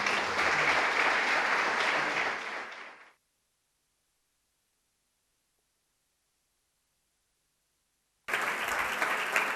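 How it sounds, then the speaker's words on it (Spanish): Audience applause at a public talk on Alzheimer's in Campo de Criptana, loud and dense for about three seconds, then silence, with the clapping returning near the end. "Recibamos con un fuerte aplauso a don José María García Alberca."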